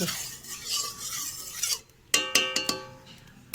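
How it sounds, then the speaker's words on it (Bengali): Oil is stirred in a pan. A steady sizzling hiss gives way to a series of distinct metallic scrapes and clinks of a utensil against the pan, close and alone. "তেলটা একটু নেড়ে চেড়ে দিই"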